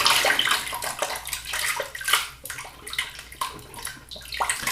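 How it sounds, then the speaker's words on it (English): Hands rinsed under running water from a tap, a close, loud splashing stream with uneven sloshing and bursts as the hands move through it. "let me rinse my hands"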